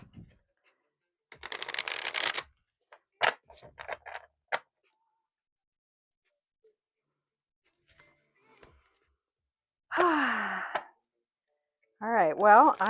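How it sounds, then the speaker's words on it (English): A small oracle card deck is shuffled in a clay studio, with a riffling burst followed by several short card flicks and taps amid quiet gaps, and a voice speaks briefly near the end. "I am just shuffling my little oracle card deck"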